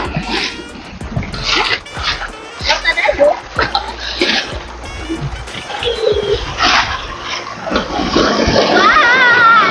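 Water pours down harder and harder, its splashing rushing growing louder and denser toward the end, with excited voices exclaiming over it.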